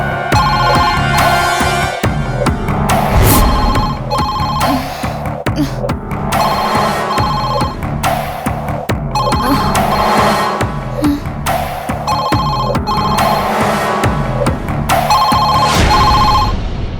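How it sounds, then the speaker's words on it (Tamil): A telephone in a Tamil television serial scene rings on and on in repeated bursts, loud and close, with brief gaps between rings and no voices over it. "ஃபோன் அடிச்சுட்டே இருக்கு"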